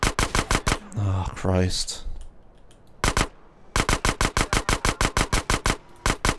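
Micro SMG fire in GTA: San Andreas, rapid bursts of sharp gunshots in quick succession with short pauses between strings, loud and close, with a voice briefly exclaiming in the middle.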